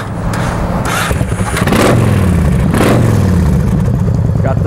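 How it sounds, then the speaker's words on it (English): Yamaha Road Star motorcycle with megaphone-style mufflers, its engine running loud and close in a steady, deep rumble that swells slightly partway through. "Megaphone style mufflers on it over here. Gives a real nice sound."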